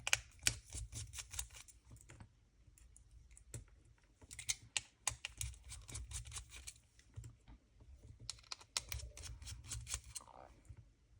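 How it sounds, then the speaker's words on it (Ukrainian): Remaining bolts being unscrewed from an Xbox Series controller with a small screwdriver, producing close, light clicking and scraping taps in irregular bursts separated by short pauses. "Відкручуємо болти, які в нас залишилися."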